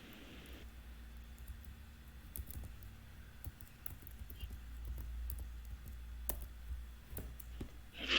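Keys clack on a computer keyboard as a nano command is typed, scattered light clicks in short bursts over a low hum, fairly quiet and close.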